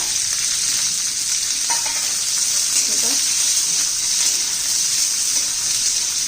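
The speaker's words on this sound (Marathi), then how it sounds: "अशा पद्धतीने तेलात परतून घेतला ना पावटा तर छान भाजीला टेस्ट येते" Lablab beans sizzle and crackle steadily as they fry and are stirred in oil for a village-style bean and potato curry, a close, continuous hiss with no talking.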